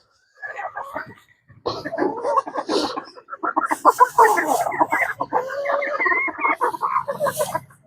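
Bantam chickens, some with colds, cluck and chatter busily at close range in a backyard flock, a near-continuous stream of short clucks with a brief pause early on.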